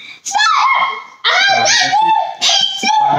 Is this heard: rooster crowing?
no